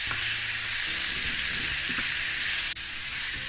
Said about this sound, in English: you want to saute this a little bit